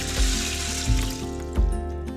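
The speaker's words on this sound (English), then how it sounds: "Today I'm adding water, but you could always do some vegetable stock too if you have any." Water pours into an Instant Pot for cooking beans, a short rushing splash that fades, with music and soft low thumps playing underneath.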